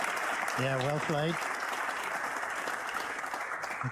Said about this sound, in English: The crowd really appreciating all this good safety play.